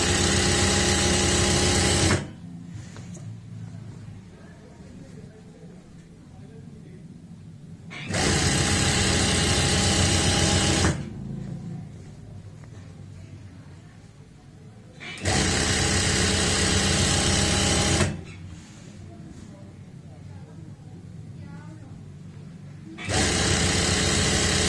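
A sewing machine stitches the side seam of plazo pants, running in three sustained loud whirring bursts of several seconds each, separated by quieter pauses.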